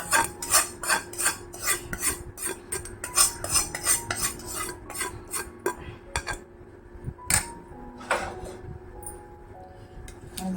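A spoon stirring mixed vegetable pickle with homemade spice in a bowl, giving a fast run of close metallic clinks and scrapes in steady rhythm, thinning out into a few slower, scattered knocks.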